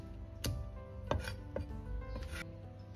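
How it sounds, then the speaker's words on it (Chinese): A knife chops peppers into large pieces on a board, with several sharp, separate strikes spaced about half a second apart, close and moderately quiet with no talking. "也是先切成条，再斜刀切成大块"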